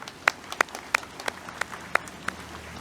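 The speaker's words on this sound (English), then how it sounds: "Can we just have a round of applause for our members from Reconciliation Lethbridge?" Scattered applause at an outdoor Blackfoot flag raising event honors Reconciliation Lethbridge members, a thin, sparse crowd with a few distinct, sharp claps standing out at an irregular rhythm.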